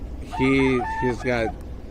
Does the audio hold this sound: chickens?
yes